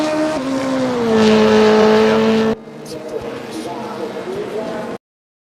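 GTR1 and GTR2 racing car engines at Imola in RaceRoom drone loudly, the pitch shifting through revs, then drop to a quieter rumble with faint tyre noise before cutting out.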